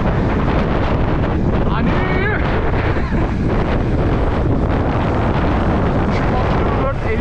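Strong, steady wind buffets the microphone on a ride up Sinop's Adabaşı on a Kuba Bluebird 50cc motorbike, a loud roaring rumble with a brief spoken word under it.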